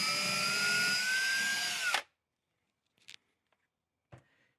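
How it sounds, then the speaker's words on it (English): A power drill whines loudly and steadily for about two seconds as it bores a hole into sheetrock or masonry, then stops, leaving a few faint clicks and taps. "Drill a hole either in your sheetrock or your masonry."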